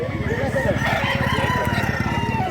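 Roosters crow repeatedly at a chicken farm in Mantalungon, Cebu, with loud, close calls and rapid clucking layered over one another and some background voices.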